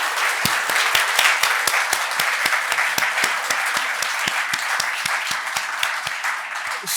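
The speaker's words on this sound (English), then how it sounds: "Let's give His Excellency a round of applause." An audience applauds His Excellency with loud, sustained clapping that fills the whole stretch, dense and even throughout.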